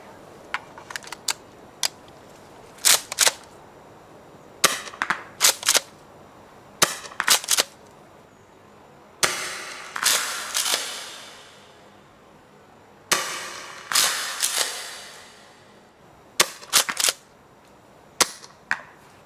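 A Tokyo Marui M870 airsoft shotgun fires sharp, snappy shots in clusters of several rapid bursts, with longer hissing gas-release spurts between some groups, loud and close with no talking.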